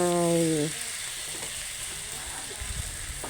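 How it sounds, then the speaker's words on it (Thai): Oyster sauce goes into a hot pan of dry-fried minced beef for a Thai basil stir-fry, bringing a continuous close sizzle with faint stirring scrapes after a short electronic tone at the start. "ใส่น้ำมันหอยลงไป"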